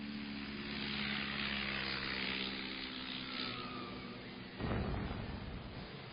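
Propeller engines of a 1930s-era bomber drone in a steady, heavy hum, and then a sudden sharp burst near the end sets off a louder, rougher roar.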